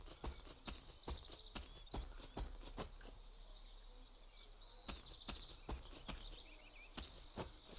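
Horse hooves clip-clop in the Deer Hunter 2005 video game, a series of crisp, evenly spaced hoof strikes at moderate distance over a faint outdoor ambience with chirping insects.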